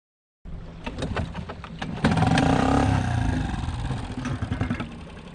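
An outboard motor on a sailboat starts up and runs at a low, rough idle, its throbbing chug rising briefly then settling into a steady nearby rumble.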